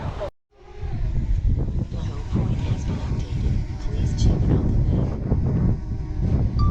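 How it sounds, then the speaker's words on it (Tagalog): Strong wind roars steadily against the microphone during a bike ride through rice country in Guimba, Nueva Ecija, Philippines, a dense buffeting rumble that barely lets up, with voices faintly underneath. "Lakas ng hangin."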